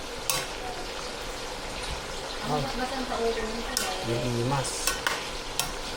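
Eggplant and kapengyo being stirred as they fry in a pan, with scraping and a steady sizzle running throughout, and people talking over it partway through.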